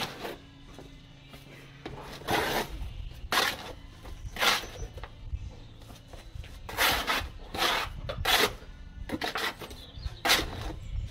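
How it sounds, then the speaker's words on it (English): A shovel scrapes and scoops building material for a small step outside an extension, heard as about eight rough, gritty scoops and dumps at irregular intervals, close and fairly loud. "Just shovel it straight in"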